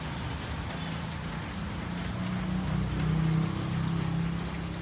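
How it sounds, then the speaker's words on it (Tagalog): Rain falls steadily outdoors during plant repotting, a soft even patter of drops on surfaces that holds at a constant low level, with a faint low rumble swelling briefly partway through. "Umulan. Umulan guys."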